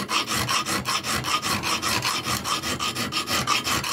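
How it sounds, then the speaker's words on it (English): A hand file rasping steadily along the swedge of a clip point Bowie knife blade, close and even, with regular back-and-forth strokes about four per second and no talk. "I just keep on filing until I get to the line."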